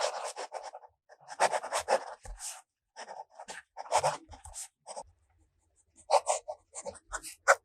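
A fountain pen with a gold nib, inked with Noodler's Kuprin, scratches across paper in short bursts of strokes separated by brief pauses, close and quiet.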